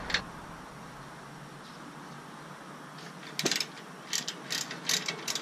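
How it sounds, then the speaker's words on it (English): Long-handled ratchet clicking as it works an 18 mm brake bolt loose on a 2010 Chevrolet Camaro SS, quiet at first, then several short close bursts of rapid pawl clicks near the end. "So grab a ratchet with a long handle, because this thing's on there pretty good."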